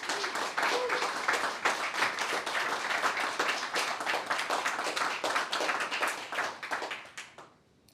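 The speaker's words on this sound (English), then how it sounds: "So big round of applause to the filmmakers and to the programming team" Audience applause for filmmakers and the programming team at the 30th Raindance Film Festival programme launch: brisk, sustained clapping from a crowd, fairly distant, that fades out abruptly near the end.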